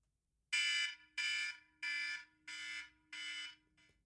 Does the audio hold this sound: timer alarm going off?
yes